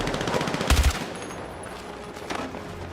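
Rapid bursts of video game gunfire from weapons with deep booms, a loud cluster of shots followed by fainter scattered reports, with no talk over it.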